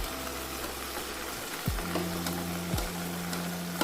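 Chicken sizzles in a pan with a continuous frying crackle, while a low tone shifts pitch in the background and a couple of soft knocks sound partway through.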